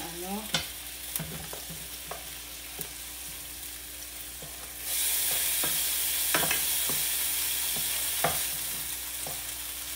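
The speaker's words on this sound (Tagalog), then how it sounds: "isayin natin ang bawang at sibuyas" Garlic and onions sauté in a pan with sharp spatula clinks and scrapes, then a hissing sizzle swells up and holds steady to the end.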